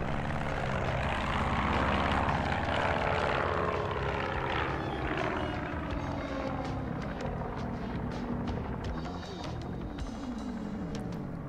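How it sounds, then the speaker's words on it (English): An airplane passes overhead outdoors, a loud broad engine and propeller roar that swells early and slowly fades across the whole span, steady and continuous with no talk. "Plane."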